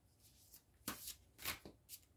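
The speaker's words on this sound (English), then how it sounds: "I'm gonna pull one more card for y'all." A deck of cards shuffled by hand, a few short riffling bursts and soft rustles, close and quiet with no talking.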